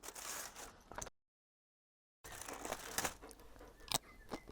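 Crinkly aluminium foil being pulled off nachos cooked on a Land Rover engine, close-up rustling and crumpling in bursts with a brief silent gap in between.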